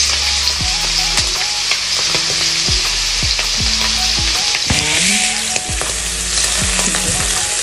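Beef broccoli with mushroom fries in a pan: a loud, steady close-up sizzle broken by repeated stirring knocks and scrapes, with no one speaking.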